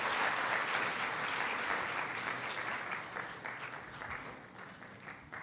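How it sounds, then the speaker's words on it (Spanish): A church congregation claps together as an offering of praise to the Lord, a dense, sustained round of applause that slowly thins and softens toward the end, with no one speaking. "¿Cuántos dan una ofrenda de palmas al Señor?"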